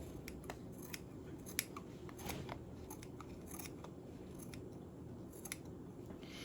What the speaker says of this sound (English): I'm going to take my scissors and I'm just going to cut it off or trim it off.